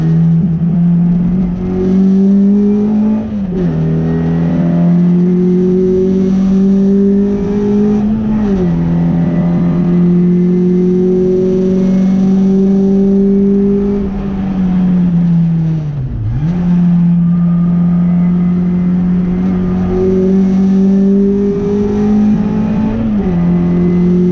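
A Mini race car running a 1380 Swift Tune A-Series engine at a Castle Combe track day revs loudly and steadily, its engine note holding high, then dipping and climbing again several times over about twenty-four seconds, with no one talking.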